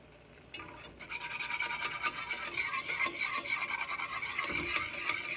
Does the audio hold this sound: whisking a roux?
yes